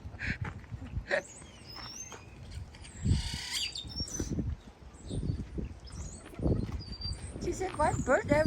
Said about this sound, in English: White bird everywhere.